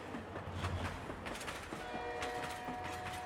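A train pulls out of a station, a steady broadband rumble and rattle with faint tonal whines running through, continuous and moderately loud with no voices.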